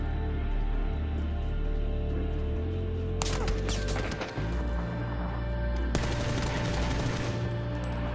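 PUBG gunfire: a couple of sharp, loud shot bursts break over a steady, noisy in-game background, with no one talking.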